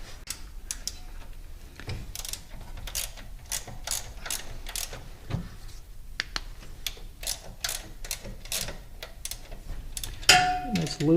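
A ratchet with a 9/16 socket works on a bolt on a 1964 Dodge Custom 880 engine, giving a series of close, sharp clicking strokes in an irregular rhythm. A brief metallic clank comes near the end.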